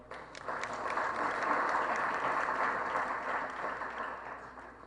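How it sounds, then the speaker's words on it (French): An audience applauds a new board of directors at an accountants' association presentation, sustained steady clapping from many hands that swells and holds through the whole stretch, fairly distant and even, with no voices over it. "Je voudrais que vous les applaudissiez pour moi."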